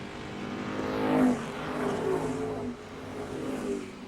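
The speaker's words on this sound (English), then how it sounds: "Little's going to hit the gas early. The green flag flies." Modified stock race cars at Mesa Marin Raceway roar off at the green flag, a loud blended engine drone swelling as the pack accelerates, then easing slightly before holding steady.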